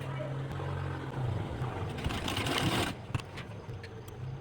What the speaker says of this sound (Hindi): और फिर हम लोग सिलाई लगा देंगे।